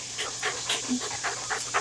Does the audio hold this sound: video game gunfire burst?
no